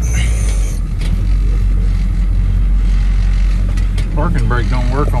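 A log truck's engine idles, left running after being jump-started or started with ether, giving a constant loud low rumble with clanks and mechanical noise, and a voice speaks near the end.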